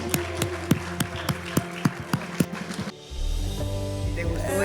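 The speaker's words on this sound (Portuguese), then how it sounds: "Dá uma salva de palmas ao Senhor" Church congregation applauding the Lord: a run of evenly spaced claps over tonal music, then a sudden shift to a denser, sustained wash of clapping and sound that stays steady to the end.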